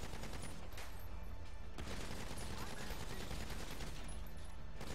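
Continuous gunfire in GTA V during the Fleeca Job heist, dense rapid shots blending into a steady loud barrage with no pauses.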